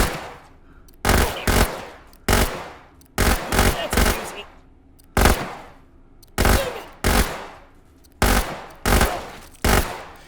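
Rapid bursts of automatic fire from a multi-barrel Metal Storm style carbine in the VR shooter H3VR, loud close volleys in short repeated clusters with brief gaps between each burst.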